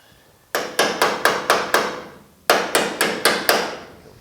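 Two quick bursts of sharp hammer strikes on metal of a 1950 Chevy truck lower cab, about six blows each in a steady rhythm, ringing close and loud with a short pause between sets.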